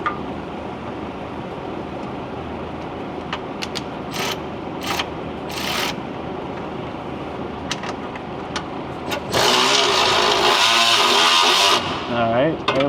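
A ratchet clicks steadily while turning a bolt on the front valance of a Ford Superduty, with faint mechanical rattles and a louder burst of rapid ratcheting near the end as people talk.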